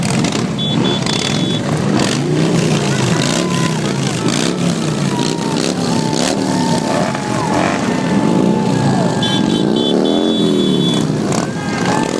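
A Harley-Davidson motorcycle rumbles past in a 4th of July parade, its deep throbbing engine loud and close, rising and falling as it moves by, with people talking over it.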